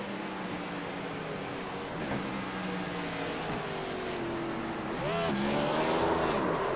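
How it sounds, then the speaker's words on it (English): Race car engine revving hard during a post-race burnout on a Daytona oval, a sustained loud drone with a sharp rise in pitch near the end. "Him doing his burnouts Earnhardt style"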